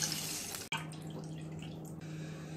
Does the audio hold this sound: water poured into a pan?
yes